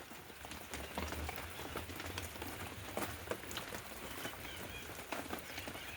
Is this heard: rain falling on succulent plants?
yes